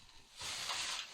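Pak choi dropped into a hot wok gives a short, bright hiss that swells for about a second and then eases, close and fairly loud, with no talking.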